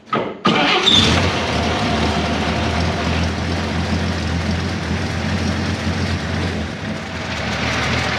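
A 1953 GMC five-window pickup engine cranks briefly and fires, then settles into a steady, loud, close idle that runs on without a break; the engine has water contaminating its oil.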